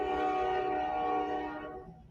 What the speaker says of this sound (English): As the train's going to blow my ears out here.